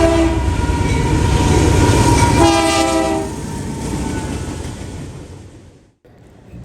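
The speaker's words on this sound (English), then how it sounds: "A YN2 AC-44CW leader is seen leading this coal train heading east to Pennsylvania" An eastbound coal train led by an AC44CW locomotive rolls past loudly and close, its horn sounding in long steady blasts over the rumble and clatter of the cars before the noise drops away near the end.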